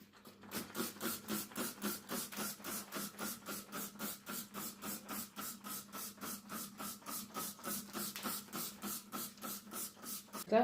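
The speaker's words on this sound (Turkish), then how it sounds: "Daha sonra mavi gücümü her tarafa sıkıyorum." A trigger spray bottle of blue cleaning liquid is squirted repeatedly over a dark kitchen countertop, giving a steady, close run of about two dozen quick hissing spritzes in even rhythm with no talking.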